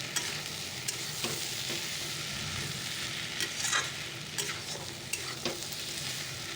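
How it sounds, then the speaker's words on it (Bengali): Spice masala sautéing in a pan, a continuous close sizzle with repeated sharp scrapes and taps of a spoon stirring the mixture, no talking. "মশলাটা দিয়ে দিয়েছি একটু কষিয়ে নিই"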